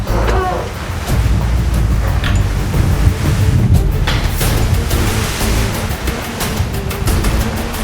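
Steady wind rushes over open offshore water as big waves surge and crash during a sailing regatta, with gusty buffeting on the microphone throughout.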